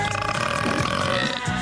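One long, low, rumbling burp fills the brief moment, close and loud, with a gravelly texture that barely varies from start to end.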